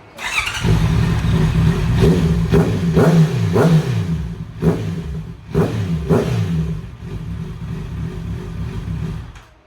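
A Honda CBR650 motorcycle fitted with a Dynamic exhaust pipe starts up nearby, then revs loudly several times, each rise and fall sharp and throaty, and settles back into a rumbling idle between blips.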